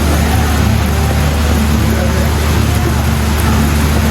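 Steady rain falling at an outdoor restaurant, a constant broadband hiss of drops on surfaces with a low rumble of nearby road traffic underneath, loud and unbroken throughout.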